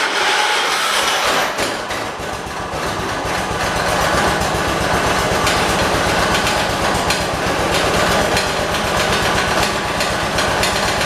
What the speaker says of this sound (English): Let me go on ahead and crank it up for you guys.